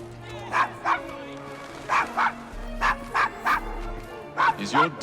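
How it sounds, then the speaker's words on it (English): Several short barks and yips from a dog in the video game Assassin's Creed Syndicate, set in 1868 London's Devil's Acre slum, come in pairs of bursts against a faint steady in-game background. "Is your dog quite all right?"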